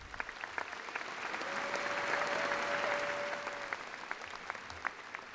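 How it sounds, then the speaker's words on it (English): An audience at a high school graduation claps for school board members, a steady, moderately distant applause that swells slightly in the middle and then thins, with a brief whistle or cheer over it. "Let's give them a round of applause."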